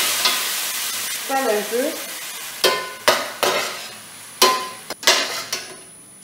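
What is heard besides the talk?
onions frying in a pan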